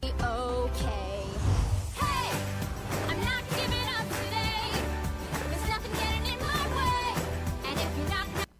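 Original recording of the song playing, a busy upbeat pop arrangement with lively melody over steady bass and rhythm, full and continuous throughout.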